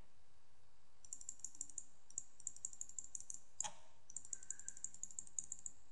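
Quiet, rapid mouse clicks while filling a selection black in Photoshop, in uneven bursts of light taps with one louder sweep midway; no talking.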